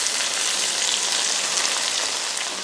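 Onions and moringa leaves sauté in a pan with a steady, dense sizzle, close and continuous without a break, with no voices.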